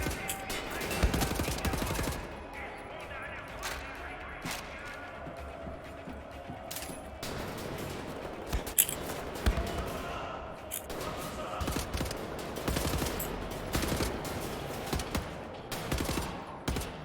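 Gunfire in Wolfenstein: The New Order: repeated bursts of rapid shots, clanks and thuds over busy game sound, with a voice speaking at times.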